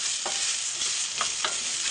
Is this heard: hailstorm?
no